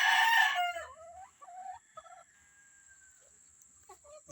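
A Black Maclean gamefowl rooster crows once, loud and close, the call trailing off into softer clucks and faint farmyard sounds, with no talking.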